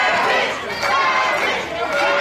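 A dense, loud wrestling crowd at a KCXW show chatters and cheers in support of wrestler Jay Savage, a steady wash of voices with a commentator speaking over it.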